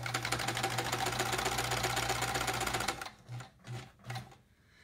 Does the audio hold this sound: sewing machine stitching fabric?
yes